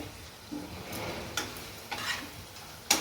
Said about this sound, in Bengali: এই যে ভাজতে ভাজতে দেখুন কি সুন্দর তেল বেরিয়ে এসছে